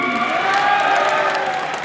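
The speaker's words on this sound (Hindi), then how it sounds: "और जोर से ताली बजाना" A large crowd at a political election rally in Bihar claps continuously, a dense wash of applause with some cheering mixed in, loud and steady throughout.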